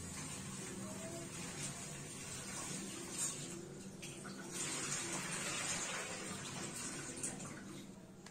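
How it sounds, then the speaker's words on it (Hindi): Cauliflower being rinsed in clean tap water, with a steady running, splashing water sound filling the whole stretch at moderate loudness and no talk. "गोभी को अच्छे से साफ पानी में फिर से मैंने धो लिया है।"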